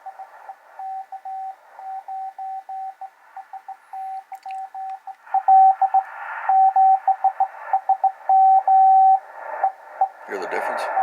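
Yaesu 857 amateur radio receiving Morse-style CW tones, a steady string of short and long beeps in an on-off keying rhythm, with faint background noise and a few louder bursts of static toward the end.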